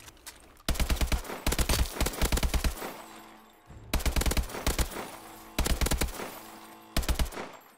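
Bursts of rapid machine-gun fire in a video game, loud and close, coming in several clusters of quick crackling shots separated by brief pauses.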